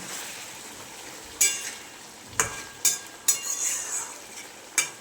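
Curry of bitter gourd, potato and prawns in mustard paste bubbling in a pan, with a low steady simmer broken by about six sharp clinks of a spoon or ladle against the pan. No talking.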